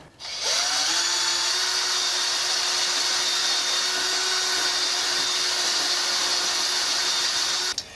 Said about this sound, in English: I'm going to drill through the holes this way